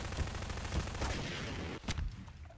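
Gunshots in Garry's Mod, heard as a loud, harsh, noisy stretch with a few sharp hits and a distinct crack near the end.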